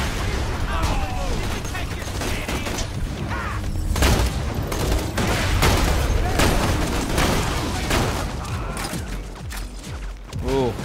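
Gunfire and grenade blasts in the Borderlands 2 video game, dense and continuous, with repeated shots and booms layered over a busy mix of game effects and voices.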